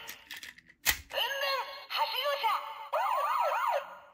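A toy makes a short electronic voice burst, then plays a wailing, warbling siren in three looping bursts, close and fairly loud.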